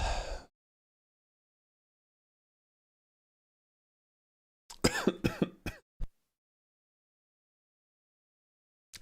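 A short burst of harsh coughing, several quick hacks close together, after a long silence, with one more faint cough at the very end.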